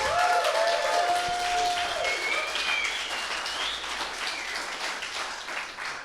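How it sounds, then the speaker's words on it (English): A room full of people gives a sustained round of applause at a data science bootcamp demo day in Berlin, loud and dense from the start with a few whoops and cheers mixed in, easing slightly over time. "So a little round of applause."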